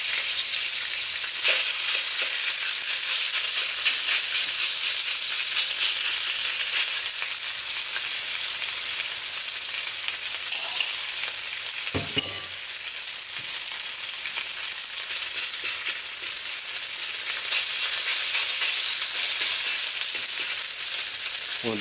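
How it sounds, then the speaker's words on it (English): Pork searing in a very hot cast iron wok for spicy stir-fried pork and cabbage: a loud, continuous hiss and crackle running unbroken, with a short clunk midway, no talking. "We'll give this a little bit of a sear."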